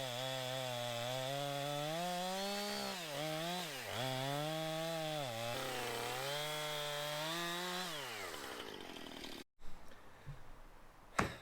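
Power saw whining steadily through wooden target boards for a throwing range, its pitch sagging and recovering as the blade bites, running continuously before cutting off, followed by a few knocks and handling noises.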